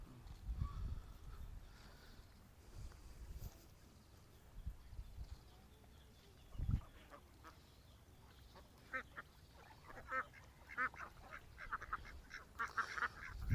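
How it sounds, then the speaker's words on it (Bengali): A flock of ducks at a village pond quacks in scattered bursts, distant and faint at first, then growing more frequent and clustered in the later part, over a low outdoor rumble. "ওরে বাবা এই মেলা হাঁস"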